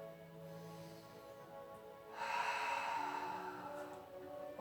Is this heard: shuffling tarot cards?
no